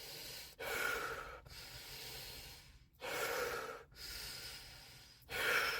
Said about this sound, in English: And you got to start breathing, diaphragmatic breathing.